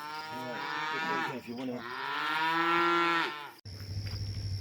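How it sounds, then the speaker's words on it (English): Cattle on a farm after dark give one long, loud, wavering moo close by, which ends abruptly before a brief rumble of handling noise. "it ended up being a late night cow chase instead"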